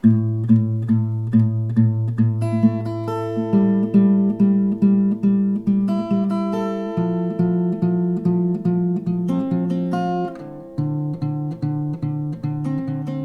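Acoustic guitar picking a song's melody alone, single plucked notes in a steady, gentle rhythm over ringing bass strings, close and clear.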